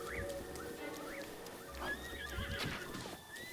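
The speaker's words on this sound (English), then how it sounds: "Oh, I didn't mean to hit your horse." A horse in Zelda Breath of the Wild neighs and whinnies several times over clip-clopping hooves, with game music and effects layered underneath, fairly close and steady.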